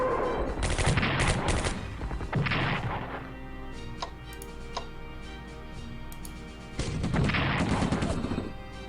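Artillery gunfire in the Strategic Command 1939 Storm over Europe strategy game: two loud bursts of booming shots at the start and a third near the end, with fainter clicks and ticks in the quieter stretch between.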